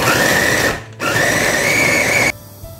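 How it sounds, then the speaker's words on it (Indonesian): An electric blender grinds Medan laksa spice paste in two loud, steady bursts separated by a brief pause, its motor whining at high pitch before cutting off. "Blender dulu nih bumbunya semua ya."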